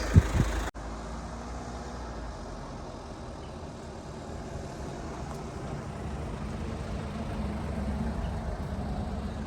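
A 2.2 CRDi diesel Kia Sorento with all-wheel drive and automatic transmission runs at the start of a test drive, a low, steady engine rumble heard from inside the cabin after a brief thump.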